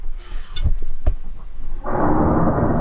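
Thunder at a campsite: a couple of sharp cracks and deep rumbles, followed by a loud steady hiss of rain that sets in and continues to the end, with no voices.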